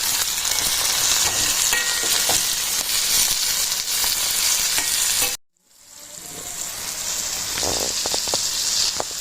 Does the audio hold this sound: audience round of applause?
no